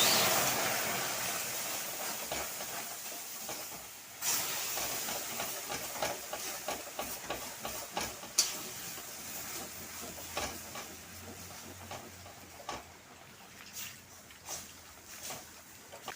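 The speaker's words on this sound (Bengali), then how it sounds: "এখন আমি অল্প অল্প দুধ দেব আর নাড়া দেব।" Milk poured little by little into a pan of cornflour mixture for spicy milk noodles, with steady stirring and soft sizzling hiss, faint clicks of the spoon against the pan.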